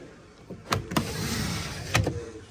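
Cargo cover in a 2025 Honda Civic Type R hatchback sliding from one side to the other, a smooth close rolling glide framed by sharp plastic clicks and clunks at the start and end, no talking.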